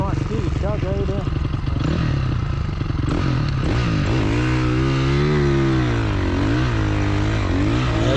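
Honda CRF450R snowbike climbing a snowy trail, its engine droning loud and close with shifting revving pitch and some clatter, while a person talks over it.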